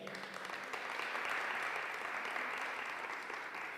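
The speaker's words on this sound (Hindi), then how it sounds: "So इसके लिए जोरदार तालियां हो जाए।" Enthusiastic applause from a congregation at an Asian Fellowship Friday prayer meeting in St. Paul's Church, a steady, dense clapping that holds evenly for several seconds with no voices over it.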